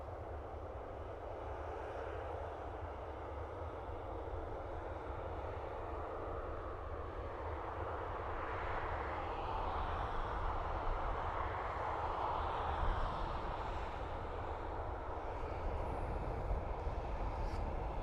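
A Ryanair airliner rumbles at Dublin Airport, a steady distant engine roar with low drone that grows slightly louder toward the middle, heard faintly and alone.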